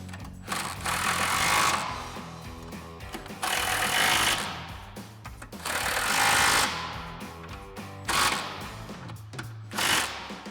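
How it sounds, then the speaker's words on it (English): An impact wrench drives a 17mm socket onto the mounting nuts of caster camber plates on a 1994-2004 Mustang, firing in four loud, close bursts of hammering rattle separated by short pauses, with no talking. "So now we'll tighten down our mounting nuts using our 17mm socket on our impact."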